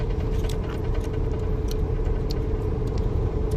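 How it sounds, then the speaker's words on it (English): A lowboy trailer truck hauling a load rolls past on the road, giving a loud, steady rumble of engine and tire noise with no voices. "I guess the trailer's called a low boy, which one just passed by me"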